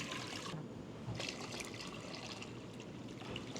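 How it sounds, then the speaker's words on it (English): Two quarts of water pour steadily into a pot over high heat with a soft, continuous splashing trickle, fairly quiet and without talk. "2 quarts of water in."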